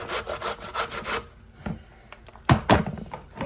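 Fresh coconut being grated by hand, a run of quick rasping scrapes that stops briefly and then resumes in a second burst of close, rhythmic strokes.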